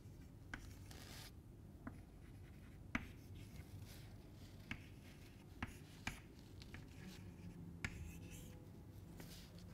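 Chalk or marker writing on a board during a math lecture: faint scratching strokes with light taps at irregular intervals, quiet and close, with no talking.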